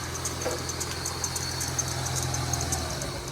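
A 1994 Thunderbird SC engine idles steadily during an EGR valve vacuum test, a low continuous rumble with a faint knocking texture and no voices.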